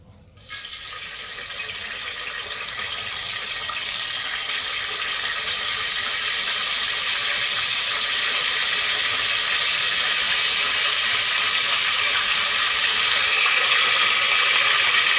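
Soaked whole spices, including bay leaf, mace, star anise and marathi moggu, hit hot oil for a chicken pulao tempering, giving a sudden loud sizzle that settles into a steady, growing hiss with no talk.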